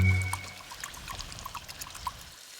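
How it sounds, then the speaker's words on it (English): A mix of corn flour and water is poured into a cooking sauce to thicken it. The liquid makes a steady trickling, splashing sound, close and moderately quiet, with no talk over it. "added corn flour and water to thicken his sauce"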